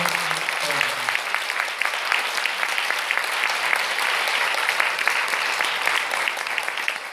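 Audience applause after a memorial performance marking a teacher's 20th death anniversary, a dense sustained clapping from a seated crowd, loud and steady throughout with a brief voice at the start.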